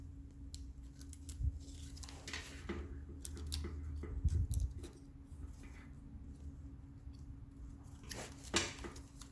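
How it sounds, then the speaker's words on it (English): A plastic zip tie is threaded through a hole in a gauge bracket and pulled tight during a gauge install, making short, close rasping clicks in scattered bursts over a low background hum. "I'm gonna thread my zip tie through one of these holes"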